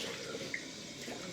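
Cold tap water runs steadily into a sink during a wet shave with a Parker 99R safety razor, a soft continuous stream close by with no talking.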